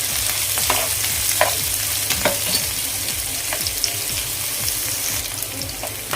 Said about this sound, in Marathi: कांदा इथे गोल्डन ब्राऊन होईपर्यंत आपण फ्राय करूया